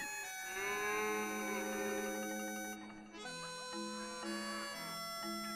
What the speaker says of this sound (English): the cows aren't doing well